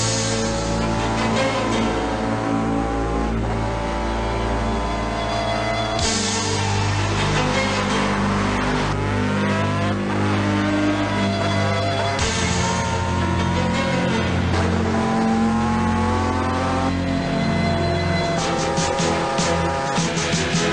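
A car and a street bike race around a track of under two miles, engines roaring and revving continuously with rising and falling pitch sweeps at each gear change, loud and close throughout.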